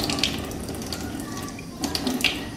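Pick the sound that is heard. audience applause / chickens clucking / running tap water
running tap water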